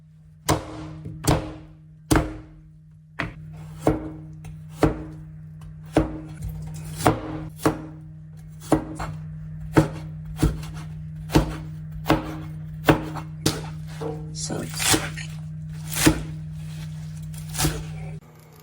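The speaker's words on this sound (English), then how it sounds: "So let's chop this all up because we're going to be sauteing this together with our spices." Knife chopping vegetables on a cutting board while preparing shrimp sinigang, a steady run of sharp, close knocks at a fairly even pace with brief pauses, heard alone without talk.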